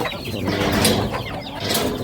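A farm hen clucks in short, close bursts over a busy background, a couple of sharper calls standing out near the middle and end.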